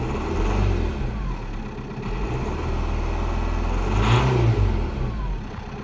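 A Vauxhall/Opel Vectra C engine starts and revs, the close, moderately loud engine rising and falling in a few swells with a stronger rev near the end.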